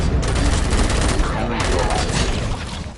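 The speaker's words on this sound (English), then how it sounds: "Gunshots? What's going on?" Dense gunfire in the Robocop: Rogue City video game, a continuous rattling barrage of overlapping shots that fills the whole stretch at high loudness and fades slightly near the end, with no speech over it.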